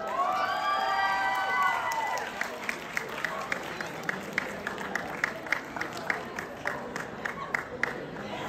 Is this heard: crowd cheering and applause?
yes